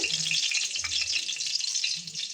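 Panch phoron seeds sizzle and crackle in hot oil while being tempered for mixed fruit chutney, a steady close hiss with a few low scraping stirs.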